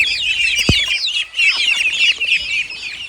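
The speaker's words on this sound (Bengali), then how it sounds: "মুরগির বাচ্চা হাতে আছে" Many chicks cheep nonstop in dense, high-pitched chirps, close by, with a soft thump partway through.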